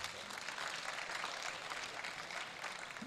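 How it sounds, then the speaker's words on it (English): An audience applauds at a space expo and conference in Kenya, a steady, fairly faint wash of clapping that holds evenly for the full stretch without any voices on top. "another round of applause"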